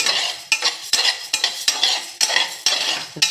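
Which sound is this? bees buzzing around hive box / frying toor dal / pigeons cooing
frying toor dal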